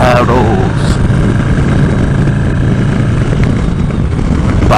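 Air-cooled motorcycle engine running steadily on a cold-weather ride, a loud continuous drone with wind rush throughout, no break in the noise.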